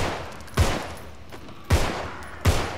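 Three loud gunshots fired at zombies on a Halloween map in the video game Contagion, irregularly spaced with booming low ends and short echoing decays, with no talking.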